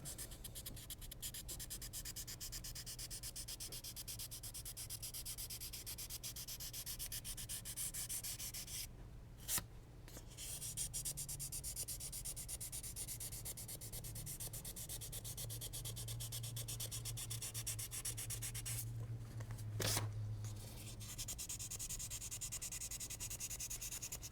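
Steady scuff sanding of the back of a guitar neck, a continuous close rasping rub with two brief pauses, heard alone without voices.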